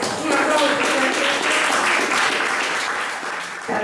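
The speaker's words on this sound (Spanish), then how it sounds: "Un aplauso." Audience applause at a poetry recital for Women's Day, a dense burst of clapping from a crowd that fades slightly near the end.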